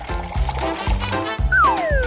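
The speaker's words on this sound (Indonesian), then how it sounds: "Tuangkan ke dalam mesin." Ice cream mixture is poured into an ice cream machine, liquid splashing and trickling close by over a rhythmic low thumping of the running machine, with a brief high whistling tone near the end.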